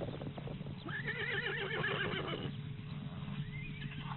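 A wild free-roaming horse on an island in the Rostov National Reserve gives a loud, quavering neigh at mid distance, followed by a quieter second whinny amid soft background noise.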